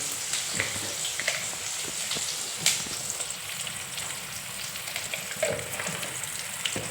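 Small onions sautéing in a pan with salt while being stirred, a continuous close sizzle with scattered clicks and scrapes of the spoon, no talk.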